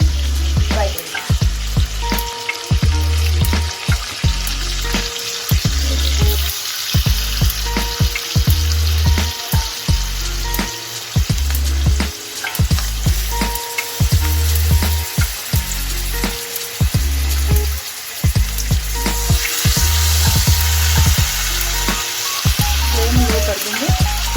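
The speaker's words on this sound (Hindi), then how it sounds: "हम अभी चिकन फ्राई कर रहे हैं" Chicken fries in a pan of butter and oil with a loud, continuous sizzle and crackle, alongside a steady rhythmic thumping throughout.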